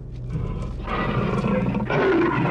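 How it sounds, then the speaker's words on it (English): A tiger roars in the 1982 fantasy film The Beastmaster, a deep, rumbling growl building into a loud, sustained roar that swells twice across a few seconds. "They don't seem scared of a tiger."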